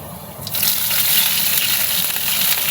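Water poured into a hot pan of sizzling tempering (cumin seeds, chopped green chili, curry leaves) while making a semolina and potato snack: a sudden loud gushing hiss about half a second in that then holds steady, with no talking.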